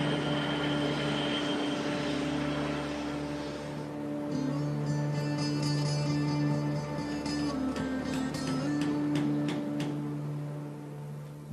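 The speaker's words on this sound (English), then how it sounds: "an extra helping hand is required to throttle up all 6 engines at once" Antonov An-225 Mriya six-engine cargo aircraft throttling up, a loud sustained droning roar with steady tonal hum and rising engine whine, no voices over it.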